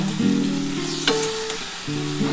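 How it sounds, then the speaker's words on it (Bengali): Spice masala with tomatoes fries in a pan, a loud continuous sizzle with stirring scrapes and a hum of tones beneath it. "এবার খুব ভালো করে কিন্তু এই মশলাটা কষাতে হবে"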